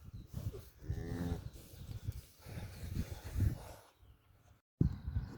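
A New Zealand dairy cow that has just given birth to a large calf moos repeatedly and loudly up close, the calls coming in several drawn-out bursts with brief pauses between them.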